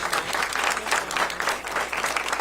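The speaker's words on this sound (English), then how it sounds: "I want to give another round of applause to our great secretary, Raimondo." Steady applause from a crowd, dense clapping continuing without pause throughout, fairly loud and close.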